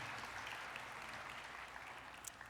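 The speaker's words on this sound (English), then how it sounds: "One more round of applause for Sophia." An audience at an awards evening applauds a singer named Sophia with steady, even clapping that fills the room and carries on without a break. No voices stand out.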